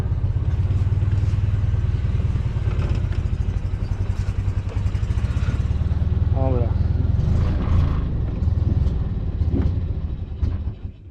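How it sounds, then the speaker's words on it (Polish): Fiat 126p cabrio engine idling loud and steady close by, revved with sharp crackling backfire pops near the middle, the rumble dropping away at the end. "O, ja mu w gaz, a on strzelił"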